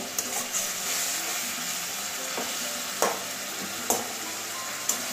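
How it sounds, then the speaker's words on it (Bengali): Spiced masala for a Bengali egg and cauliflower curry cooking in a pan after water is added, with a steady close sizzle and bubbling broken by a few sharp clinks of a spoon stirring against the pan. "এবারে জল দিয়ে দিচ্ছি, জল দিয়ে মশলাটা কষিয়ে নেব।"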